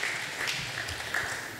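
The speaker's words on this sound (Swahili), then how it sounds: "Wapigie makofi wanapoketi" Congregation applauding as people take their seats at an end-of-year thanksgiving church service, a steady patter of many hands clapping at moderate distance, with a faint voice beneath.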